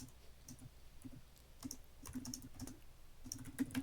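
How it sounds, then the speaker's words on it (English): Typing on a computer keyboard, a quick irregular run of soft clicks and taps, fairly quiet and close, in a hushed room with no talking. "I hear typing."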